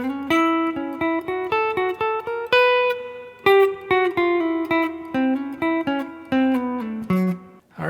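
Clean guitar playing a short phrase from a guitar solo, picked single notes with slides moving in a steady rhythm, close and clear with no voices, about eight seconds long.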